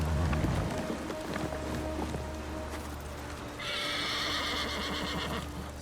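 An armored horse named Kaze in a video game whinnies and gallops, with hoofbeats and rustling followed by a loud, bright neigh near the end.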